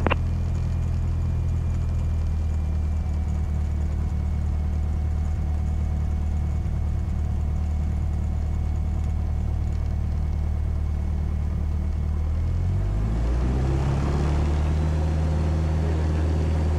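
A small plane's engine drones steadily and loudly during the takeoff roll at Madison, Wisconsin, its pitch shifting as power and speed build near the end.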